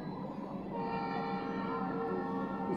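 A passenger train runs from Bareilly to Delhi over rain-flooded, waterlogged tracks, giving a steady rumbling roll with sustained horn-like tones held throughout.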